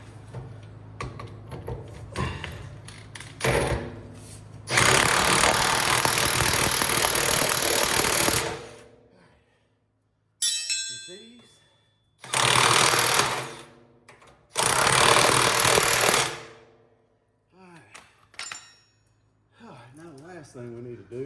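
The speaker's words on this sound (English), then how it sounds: "we gotta tighten up this here bolt right here" A power tool tightening a bolt on a truck engine in a shop, heard as several loud sustained bursts of buzzing, hammering impact rattle separated by short pauses, with someone talking in between.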